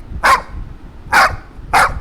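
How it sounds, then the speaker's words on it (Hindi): A disturbed stray dog barks three times, each sharp, loud bark evenly spaced and close by, with no other sounds in the clip. "भौंकना परेशान हुए कुत्ते की एक प्रतिक्रिया है"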